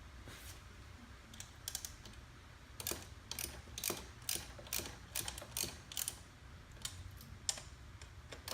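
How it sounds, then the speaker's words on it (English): A ratchet tightens bolts on a MotoTrax Scout XC track: quick bursts of clicks repeat in uneven runs, close up and otherwise quiet. "get these nice and tight back down, get them to the proper torque specs."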